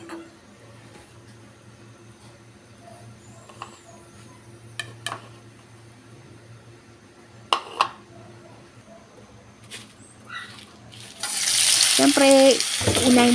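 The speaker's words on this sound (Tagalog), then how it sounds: "maglalagay tayo ng mantika sa kawali" Cooking oil heats in a kawali frying pan: a quiet stretch with scattered soft ticks and pops, then a loud, dense sizzling burst close by in the final two seconds.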